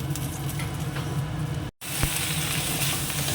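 Whole spices tempering in hot oil for a fish-head dish, a crackling, pattering sizzle heard close up, briefly cut by a moment of silence before resuming just as strong.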